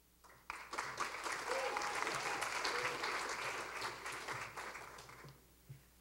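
A film festival award ceremony crowd breaks into applause, sustained clapping from many hands swelling quickly then tapering off near the end, with a faint voice underneath.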